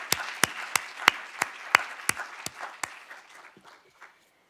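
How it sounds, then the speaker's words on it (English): An audience at an academic lecture event applauds student leaders with a rhythmic round of clapping, sharp distinct claps over softer scattered hands, gradually thinning out and fading to silence. "let's give a round of applause to our student leaders"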